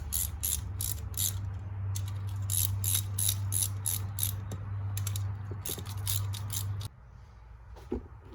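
A ratchet clicks in quick bursts while bolts on the fuel injectors of a 2014 GMC Sierra are tightened in turns, with pauses between runs over a low steady hum, close but fairly quiet.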